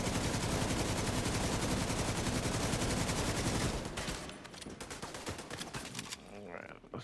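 Sustained automatic gunfire in The Division 2, a dense, loud rapid stream of shots for several seconds, then breaking into scattered shots and impacts.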